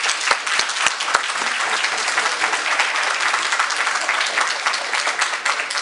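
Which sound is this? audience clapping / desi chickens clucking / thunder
audience clapping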